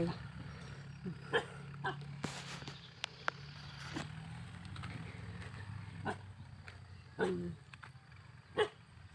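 A dog barks a few times outdoors in a rural field setting, brief sharp yelps spaced irregularly over a steady low background hum, with faint voices now and then.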